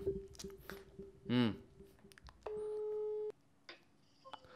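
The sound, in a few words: telephone call tone while calling Ali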